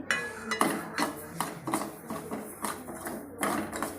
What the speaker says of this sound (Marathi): सुरुवातीला गॅसवर मी कढाई ठेवलेली आहे त्यावर ही मोहरी हलकीशी भाजून घ्यायची